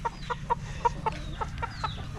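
Hens cluck in a quick series of short, clipped calls, about nine in two seconds, fairly close over a low background hum.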